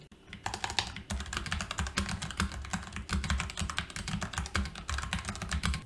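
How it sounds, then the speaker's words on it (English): Fast, continuous typing on a computer keyboard at a desk, dense clacking keystrokes, close and loud throughout with no talk. "just to show you how much of the keyboard noise is picked up, I'm going to start typing"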